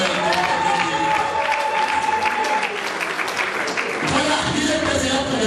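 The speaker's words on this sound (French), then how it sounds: "Applaudissons pour le gouvernement." Crowd at a UDPS political party gathering applauding loudly and continuously, dense clapping with some cheering voices mixed in, swelling again near the end.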